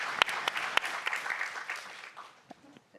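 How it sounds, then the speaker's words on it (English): Audience at a climate change adaptation forum gives a round of applause, a few sharp individual claps up front, then a swell of clapping that fades out within three seconds. "I think we can all give a round of applause."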